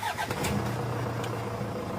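A Toyota Hilux with a low-power fault cranks briefly and its engine catches, settling into a steady idle hum that sits fairly near and clear, without talk.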